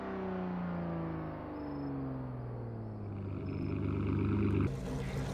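Pagani Zonda R engine in the Driving Empire racing game, a steady revving drone with smooth pitch sweeps that climbs in intensity toward the end and then cuts off abruptly.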